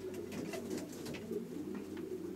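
Elderly breeding racing pigeons in a loft coo softly and repeatedly, several birds overlapping in a low, continuous murmur.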